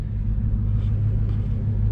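Low, steady engine rumble of a manual-transmission car moving off slowly from a stop as the clutch is eased out, a continuous close drone with no talk.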